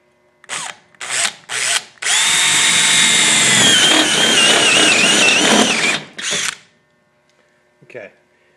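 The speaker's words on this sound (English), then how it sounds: "I'm going to use the unibit on the drill and drill a hole" A power drill with a step bit whirs in three short bursts while drilling a hole in an Amana furnace, then runs in one long continuous grind before stopping, followed by a brief final rev.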